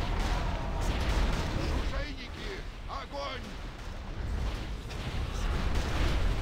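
Artillery battery firing during a video game battle: a dense, continuous wash of booms and blasts that stays loud throughout, with voices faintly mixed in.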